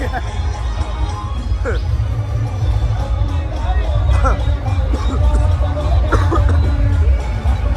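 A dense crowd murmurs and bustles at the Sati Mata yatra procession in Ramboris, a loud steady babble of many voices with low rumbling and scattered shouts throughout.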